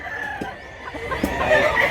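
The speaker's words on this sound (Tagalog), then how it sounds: "Wapo kayo manok idol." Roosters and hens at a chicken market in Mantalungon, Cebu, give short clucks and a brief crow over a steady background murmur.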